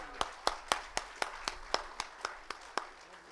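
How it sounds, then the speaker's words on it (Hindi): Audience at the Raibaar Garhwali movie trailer and music launch claps in a steady, evenly spaced rhythm, each sharp clap distinct, like a small number of hands beating together for a few seconds. "तालियां रैबार मूवी के लिए।"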